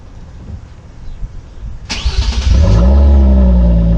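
A 2014 Hyundai Genesis Coupe cold-starts after a quiet idle-free lead-in, cranking briefly before the engine catches with a sharp bark and climbs into a loud, sustained rev close to the car.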